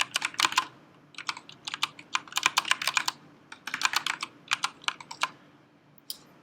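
Fast, slightly uneven typing on a computer keyboard, heard up close as dense clusters of crisp key clicks with brief gaps, no voices.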